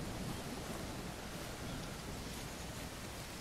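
Rain falls in the Eden Island video game as a faint, even hiss that stays constant from start to finish, with no voices.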